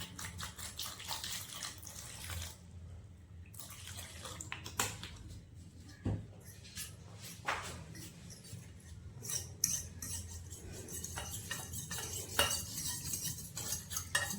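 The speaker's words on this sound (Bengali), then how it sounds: "এবার জল দিয়ে পাতলা করে গুলে নেব।" Fish chop batter is stirred thin with water in a bowl, with a utensil clinking and scraping against the sides in irregular bursts, quiet and close, over a faint background hum.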